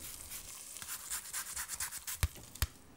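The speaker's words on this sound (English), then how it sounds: "And zest of, I don't know, about half of an unwaxed lemon." Half an unwaxed lemon is grated for zest in a kitchen, giving a quiet run of quick, rhythmic scraping strokes, followed by two sharper knocks near the end.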